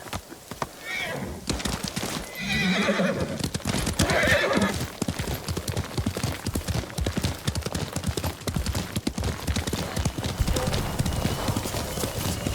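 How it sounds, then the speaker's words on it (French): In the video game Ghost of Tsushima, a horse gallops with rapid, continuous hoofbeats close by, and several whinnies rise over them early on. "Bon cheval."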